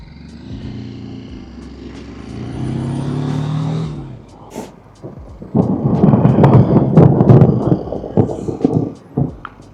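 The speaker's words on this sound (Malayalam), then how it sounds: "കേട്ടോ ഇടിവെട്ടുന്ന സൗണ്ട് കേട്ടോ" Thunder rumbles during a motorcycle ride, a deep rolling swell building for several seconds, then a heavier crackling, booming burst that is loud and close, with passing traffic noise mixed in.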